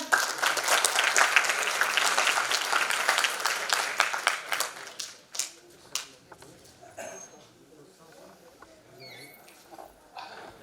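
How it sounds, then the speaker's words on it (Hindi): Loud applause at a stage performance of the Hindi play Dhruvswamini as an actress is called up to receive a certificate; dense clapping fades after about five seconds into scattered claps and quiet. "जोरदार तालियां।"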